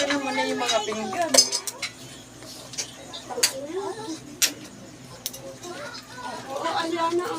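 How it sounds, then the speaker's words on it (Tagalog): Dishes, plates and cutlery clatter and clink in a home kitchen, a few sharp knocks standing out, while people talk and call out nearby throughout. "Ito naman na yung mga pinggan."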